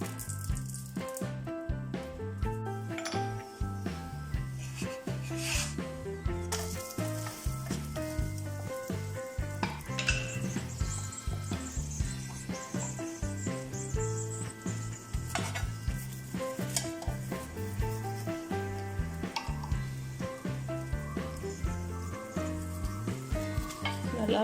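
Aloo paratha, a potato-stuffed wheat flatbread, fries on a hot pan with oil or ghee, giving a steady close sizzle throughout, with occasional clinks of a utensil against the pan.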